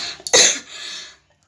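A person coughs at close range, first with a short throat catch and then a forceful cough. A second cough starts at the very end.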